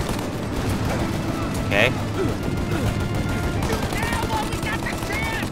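Gunfire from a shootout at a farm in Mafia: Definitive Edition, heard as continuous dense shooting under steady game noise while a player talks over it.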